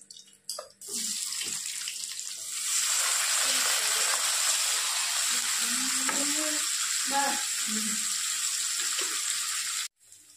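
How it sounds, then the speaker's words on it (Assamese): Chopped onions sizzle in a hot pan, a bright, steady frying hiss that swells after a few clicks and runs on loudly until it cuts off abruptly near the end. "মই এতিয়া পিঁয়াজখিনি ভাজি হৈ গ'ল।"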